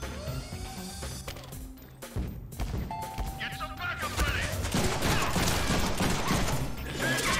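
Video-game gunfire in bursts mixed with mechanical clatter and crashes, fairly close and growing denser, with people talking over the action.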